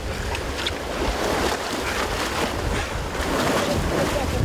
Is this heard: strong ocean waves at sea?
yes